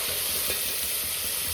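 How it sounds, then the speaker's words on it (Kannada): Tomato and onion frying in a pan for egg biryani, a loud, steady sizzle with soft scraping strokes of stirring mixed in, close and without voices. "ಎಲ್ಲ ಚೆನ್ನಾಗಿ ಫ್ರೈ ಆದಮೇಲೆ ಟೊಮೆಟೊ ಹಾಕ್ಕೊತಾ ಇದ್ದೀನಿ. ಚೆನ್ನಾಗಿ ಫ್ರೈ ಮಾಡ್ಕೊತೀನಿ."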